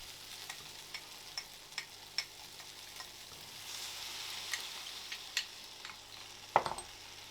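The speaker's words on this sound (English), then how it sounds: "Stir it all in, mix it around." Kung pao chicken sizzles and fries in a pan as it is stirred into its sauce, with steady close sizzling and a series of clicks from utensils scraping the pan, and no talking.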